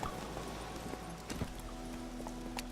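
A horse's hooves clip-clop in a video game, a quick run of light rhythmic hoofbeats, fairly quiet, with no talking.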